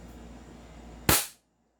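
An airsoft pistol, a KP19 or CZ Shadow 2, fires a single sharp crack close by, after which the sound cuts straight to silence.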